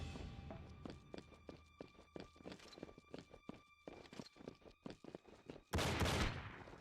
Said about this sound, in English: Please stop shooting at me while I'm doing things.